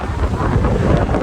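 Strong wind buffets the microphone on the deck of a moving ferry travelling from Bangkok toward Koh Samui island, a loud, steady roar with low rumbling gusts and no talk.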